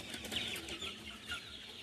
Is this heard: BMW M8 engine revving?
no